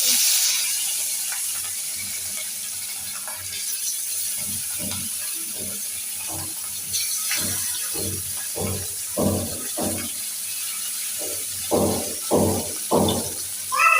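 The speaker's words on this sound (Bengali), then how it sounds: "তেল বসিয়ে দিয়েছি তেলটা অলরেডি গরম হয়ে গিয়েছে আর মাছে আমি লবণ হলুদ মাখিয়ে নিয়েছি" Hilsa fish coated in salt and turmeric frying in hot oil, a steady bright sizzle broken by louder bursts of spitting and crackling near the end.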